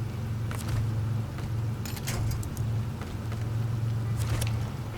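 Low engine drone of a Chevy K1500 six-cylinder half-ton pickup in SnowRunner, straining steadily under a heavy load of concrete blocks, with a few brief metallic rattles over the continuous hum.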